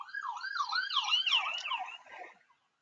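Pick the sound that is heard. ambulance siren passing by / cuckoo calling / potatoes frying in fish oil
ambulance siren passing by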